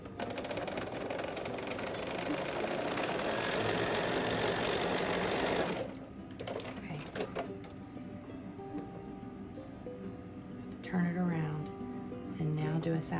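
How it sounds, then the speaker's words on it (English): A sewing machine runs fast and steady while stitching a quilt sashing strip to a cornerstone, a loud rapid whir that stops abruptly partway through, followed by quieter handling sounds and someone talking. "I'm gonna sew a cornerstone on either side of it."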